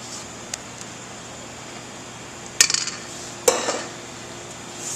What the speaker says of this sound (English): So I'm going to take my spoon across the bottom and across the top.